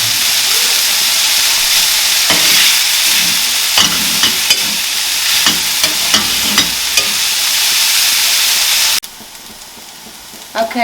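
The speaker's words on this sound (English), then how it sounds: "I've been sauteing the garlic for 8 minutes" Garlic, ginger and chili sauteing until crispy sizzle loudly and steadily with scattered stirring clicks, then the sound cuts to a much quieter background for the last two seconds.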